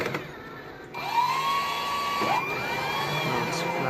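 A Rotimatic roti-making machine flattens dough with a rising motor whine that holds a steady high tone, then drops and continues as a whirring hum with faint mechanical noise.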